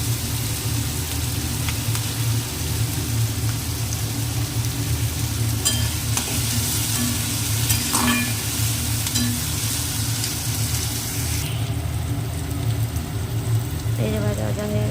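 Pieces of rohu fish frying in a pan for Bengali chilli fish, a continuous crackling sizzle with utensil scrapes and clinks as it is stirred, fairly close.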